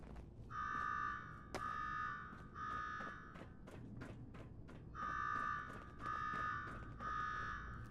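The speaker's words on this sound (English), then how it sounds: "Now go shut off that damn alarm" An alarm rings in the Fallout 4 video game, repeated buzzing bursts pulsing on and off over several seconds, faint and distant-sounding, with scattered sharp clicks and knocks between them.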